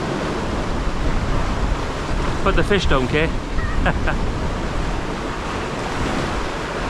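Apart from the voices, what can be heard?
stormy sea waves and wind at Oxwich Bay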